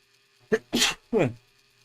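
A single close sneeze, a sharp intake and burst of breath, followed by a brief spoken reply nearby.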